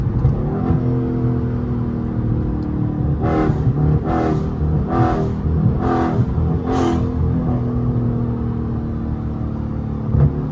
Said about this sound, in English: I ain't run my car that hard in so long